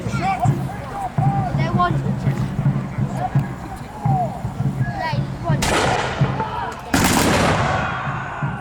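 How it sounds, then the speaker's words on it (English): A musket volley rings out at an English Civil War battle re-enactment at Tattershall Castle: two loud, sharp crackling bursts near the end, following a stretch of people talking outdoors. "There was a good volley, caused some consternation in the Parliament ranks."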